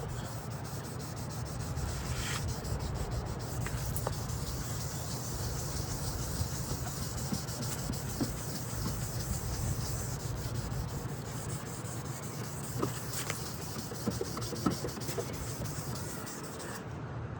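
A car headlight lens is sanded by hand in steady circular motions, giving a continuous, even rubbing and scraping that stays close and unbroken with no talk over it.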